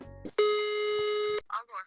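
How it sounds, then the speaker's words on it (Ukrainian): A telephone ringback tone on an outgoing call to a realtor about an apartment rental in Lviv: one steady, loud electronic beep of about a second, followed by a person starting to speak. "Отже, телефонуємо Тетяні."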